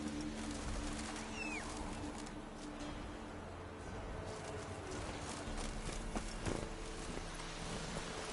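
Steady clip-clop of Roach, Geralt's horse, galloping in The Witcher 3: Wild Hunt, a continuous drumming of hooves under ambient wind and faint bird calls, moderately loud throughout.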